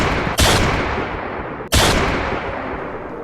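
Two loud, close gunshot blasts from the video game Blinding Dark, each a sharp crack followed by a long, noisy decaying tail, spaced a little over a second apart with no talking.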